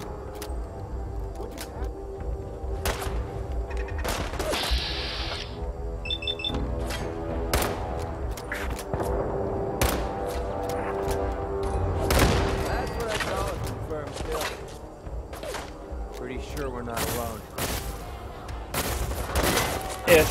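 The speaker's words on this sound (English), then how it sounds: "Don't shoot at me." Gunfire in the video game Fallout 4, with repeated sharp shots and bursts scattered throughout, loud and close over steady game background, with occasional alarm-like tones and someone talking at times.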